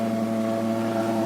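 A mosquito fogging machine runs with a loud, steady droning hum, a constant engine tone with no breaks and no talking.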